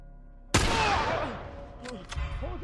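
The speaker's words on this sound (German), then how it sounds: "Das war doch ein Headshot." Gunfire in The Last of Us video game: a loud sudden shot bursts in and its echo decays, followed by a couple of sharper follow-up cracks amid game sounds.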